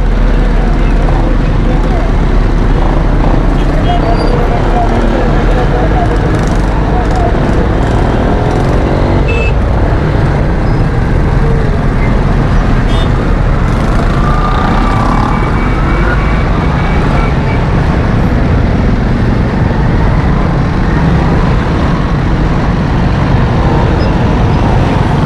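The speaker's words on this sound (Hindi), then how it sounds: "ट्रैफिक जाम है। कराची में जगह जगह पे ट्रैफिक जाम होना शुरू हो चुके हैं।" Dense road traffic on a rain-flooded Karachi road, a steady loud wash of car, bus and truck engines with scattered horn and siren-like tones throughout, and voices talking over the congestion.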